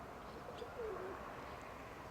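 Soft cooing of a pigeon, faint and a little distant, over quiet outdoor background noise.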